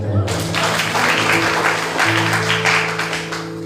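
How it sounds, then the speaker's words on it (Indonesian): A church congregation claps at a sermon on a thankful heart: a short, loud round of clapping over a steady hum, with a couple of voices talking underneath. "Tepuk tangan dulu."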